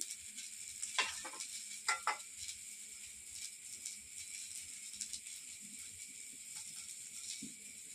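Ground spices, coriander and a little fenugreek powder, fry in a pan with a steady soft sizzle, broken by a few sharp scraping stirs early on and lighter clinks of the spoon later.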